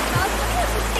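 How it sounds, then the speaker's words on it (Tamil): Water flowing at a remote, quiet mountain waterfall gives a constant rushing roar, with a voice speaking over it. "வெறும் தண்ணி சத்தம் தான்."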